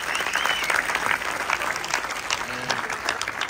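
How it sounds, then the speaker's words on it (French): An audience at a Dakar series festival applauds the creators of the series, a steady, dense wash of clapping that holds at an even level throughout, with faint voices mixed in. "Alors je demande d'applaudir pour tous les créateurs des séries,"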